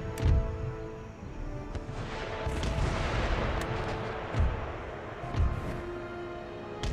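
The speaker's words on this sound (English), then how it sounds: "Some artillery. It's going to be firing round shot." Artillery firing round shot in Empire Total War booms repeatedly across a battlefield, several sharp cannon reports spaced a second or two apart over a steady rumbling background of distant battle noise.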